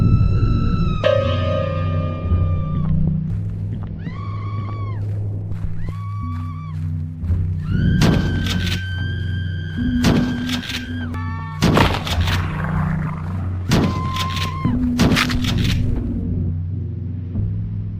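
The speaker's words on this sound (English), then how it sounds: "in defense you pull out your shotgun and..." Shotgun blasts go off in a video game demo, several loud booming shots over droning, tonal game music and low rumble, with a voice briefly audible in the mix.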